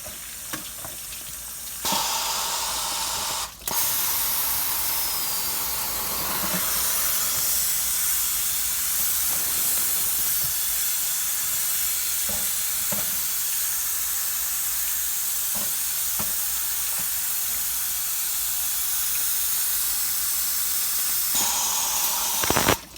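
Water sprays onto logs of shiitake mushrooms on a farm, a loud, continuous hissing rush that carries on for over twenty seconds, broken by a few brief knocks and one short drop in the spray.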